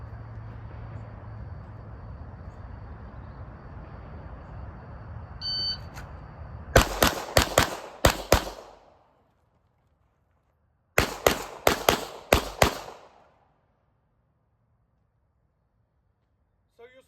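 Firearm shots at three targets in two quick strings of sharp, loud cracks, each string three or four shots in a rapid rhythm, after a stretch of hissy background noise and a brief electronic beep.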